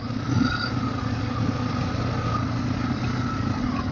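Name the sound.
Bajaj Pulsar N250 motorcycle riding off-road on dirt road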